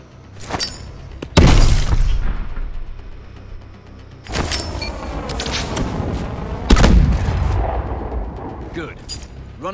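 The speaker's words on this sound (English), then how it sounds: "Toss a smart grenade and aim at a target to guide it." A smart grenade detonates in Call of Duty: Advanced Warfare, with several loud, sharp blasts and shattering bursts spread through a stretch of game combat, each decaying into rumbling tails, while voices talk in the background.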